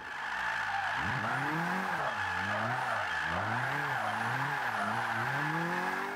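A Scion tC drift build in Forza 5 revs hard through a drift, the engine note rising and falling in sweeping waves over a steady, loud tire squeal with no talking.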